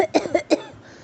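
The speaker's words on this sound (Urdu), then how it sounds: "بادشاہ بہت زور زور سے کھانسنے لگا۔" A king chokes on food and coughs hard, four sharp, loud coughs in quick succession followed by a short, quiet tail.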